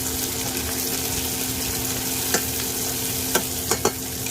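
Garlic and onions sautéing in hot oil for chicken afritada, a steady close sizzle filling the whole stretch, with a few sharp scrapes and taps of a utensil stirring in the pan.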